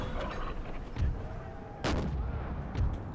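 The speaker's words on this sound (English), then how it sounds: "their artillery is pounding me pretty good here" Artillery fire in the Empire: Total War Brothers vs. Brothers mod, heavy cannon booms from Union lines, with a few deep thuds and one sharp, loud blast near the middle over a constant battlefield rumble.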